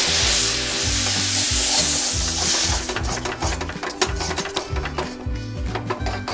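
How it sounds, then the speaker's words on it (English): Sugar syrup poured into frying atta halwa, giving a loud sizzling hiss that fades into rapid, close stirring and scraping in the pan, over a low repetitive mechanical hum. "now I'm going to mix syrup into this"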